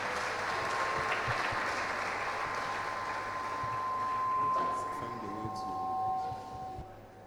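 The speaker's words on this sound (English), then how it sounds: "let's break the protocol and clap for our Vice Chancellor" An audience at a Model United Nations conference applauds the Vice Chancellor, steady clapping that tapers off near the end, with a faint tone and a few voices underneath.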